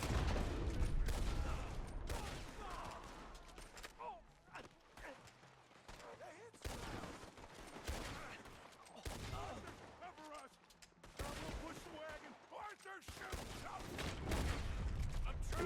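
Gunfire in the video game Red Dead Redemption 2 comes in repeated sharp bursts and volleys, separated by quieter stretches, with someone talking intermittently over the shooting.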